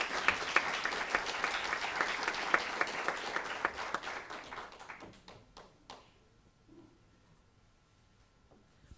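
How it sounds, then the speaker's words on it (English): A conference audience applauds at the close of an international academic event, loud dense clapping that gradually thins into a few scattered claps and fades to near quiet. "really big applause to Mr. Ambassador Łukasz for his efforts and"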